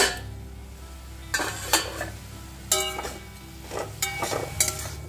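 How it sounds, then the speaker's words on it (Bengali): A lid lifted off a pot of methi greens cooking on the stove, with several metallic clanks and scrapes of lid and utensil against the pot over a faint low simmer. "বন্ধুরা, ঢাকনাটা খুলে শাকটা দেখে নেব।"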